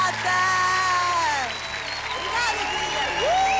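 A television talent-show audience on The Voice Portugal applauds and cheers in a steady, loud wash of clapping, with a host's voice and a singer's sustained tones running over it throughout.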